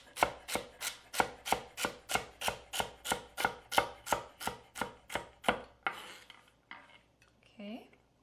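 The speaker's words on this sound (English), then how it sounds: "I want a relatively fine chop on my celery" A knife finely chopping celery on a cutting board, about sixteen crisp, evenly spaced strokes in quick succession, close and clear, followed by a few quieter knocks and handling sounds.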